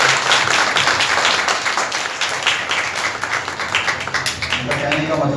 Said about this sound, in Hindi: तालियां बजा दें खुदा के नाम के लिए।